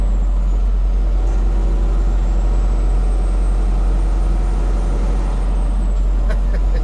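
Heavy delivery truck engine holding a steady low rumble inside the cab, rising slightly as the throttle is held down with a slow, delayed response; continuous and close, with a faint air hiss near the end.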